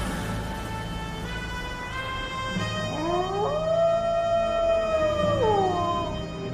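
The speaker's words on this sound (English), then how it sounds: "Wolves." Wolves howl in an icy wilderness setting, several long rising and gliding voices overlapping into a chorus that swells louder and holds before tapering, with steady low background rumble beneath.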